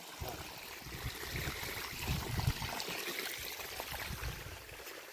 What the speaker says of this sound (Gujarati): આ મોટર ચાલુ. એટલું જ પાણી કેમ આવે ભાઈ?